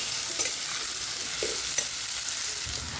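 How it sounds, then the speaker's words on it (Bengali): Potatoes and bitter gourd leaves sizzle steadily in a pan, with a constant hiss of frying oil and a few scraping stirs of a spatula against the pan. "এবার সব কিছু দিয়ে আঁচটা কম করে বা মিডিয়াম আঁচে নেড়ে চেড়ে ভেজে নেব"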